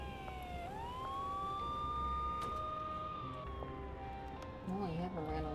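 Police car siren in the video game Schedule I, a rising and falling wail sweeping steadily at moderate distance, with a player's voice breaking in near the end.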